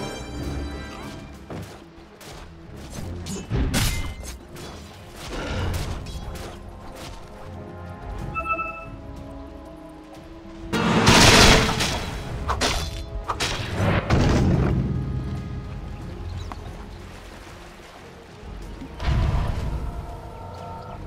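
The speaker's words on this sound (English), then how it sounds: "Dire's top tower is under attack." Combat at a tower under attack in the Dota 2 video game: repeated heavy thuds, crashes and booming impacts come in clusters over a busy game soundscape, with the loudest burst near the middle.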